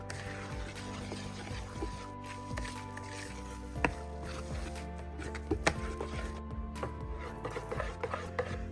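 Boondi laddu batter, made to a dosa-batter consistency with water added bit by bit, is stirred by hand in a bowl, giving soft wet squishing and sloshing with small clicks against the bowl, close and quiet, with no one speaking.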